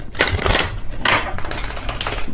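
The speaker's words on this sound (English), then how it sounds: "If I could shuffle my deck without it going everywhere" Rapid riffling bursts of a tarot deck being shuffled, two or three close, crisp flurries with short pauses between.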